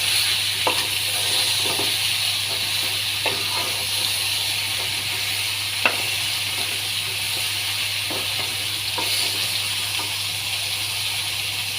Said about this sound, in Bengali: কড়াইতে আমি লাউটাকে দিয়ে দিই,